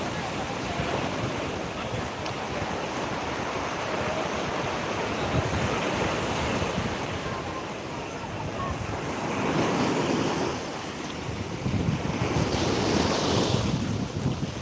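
Continuous roar of rough ocean surf breaking on the beach at Old Digha, with heavy wind buffeting the microphone and swells of louder crashing near the end.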